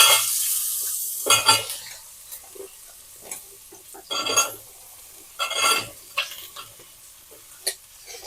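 Drumstick, carrot, okra, brinjal, bottle gourd and tomato pieces hit a sizzling tempering of mustard seeds, cumin and asafoetida for sambar, giving loud hissing bursts with scraping stirs between quieter stretches of steady frying.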